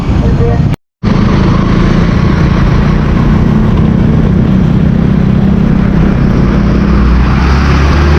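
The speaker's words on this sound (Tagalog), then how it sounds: "Yan, traffic." Busy road traffic on a street as light rain begins, a loud, steady, close rumble of engines and tyre noise that cuts out briefly near the start and then carries on unbroken.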